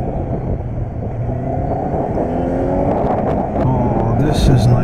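A Kawasaki Z900 motorcycle rides along, its engine and exhaust giving a steady, loud low rumble with some wind noise, close up throughout.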